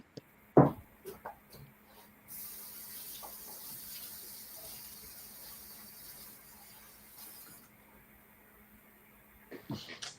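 A kitchen tap runs steadily as food is rinsed under it, a soft continuous water flow with a few clunks and knocks at the start and end.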